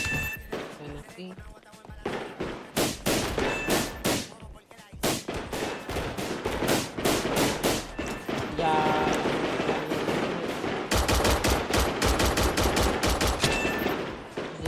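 Combat gun firing with a custom sound pack in the FiveM game, heard as rapid automatic bursts of gunshots, some rattling fast like rapid fire, with a brief voice near the start.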